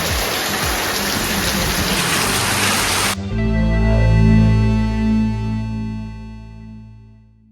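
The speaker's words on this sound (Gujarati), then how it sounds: "અહીંયા તમે જોઈ શકો છો આપણે બહુ મસ્ત વરસાદ આવે છે" Heavy rain roars steadily for a few seconds, then cuts off abruptly into a steady, low humming drone.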